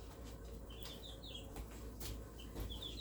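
Soft chicken clucks and chirpy calls, moderately distant, over a steady low background rumble.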